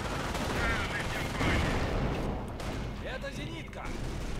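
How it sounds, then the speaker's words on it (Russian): An anti-aircraft gun fires in the video game Company of Heroes: Tales of Valor, sustained rapid bursts and booms rolling through the battle, with voices talking over the gunfire. "Это зенитка!"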